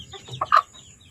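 Chicks in a small chicken coop give a couple of brief, close clucking peeps over a faint background hum.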